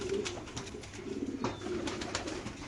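A racer pigeon kept in a cage coos softly and repeatedly, low rounded calls in a steady rhythm heard close up against a faint background hum.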